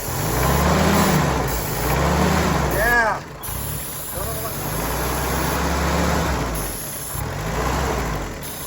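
An M38A1 Army Jeep engine runs steadily at close range, revving up and easing back in repeated swells with a brief dip partway through, while a person speaks briefly over it.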